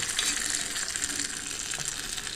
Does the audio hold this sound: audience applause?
no